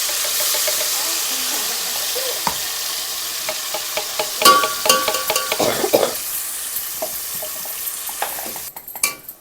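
Hot oil sizzles and crackles steadily in a home kitchen pan, loud and close, with stirring and clattering mid-way and no talking over it.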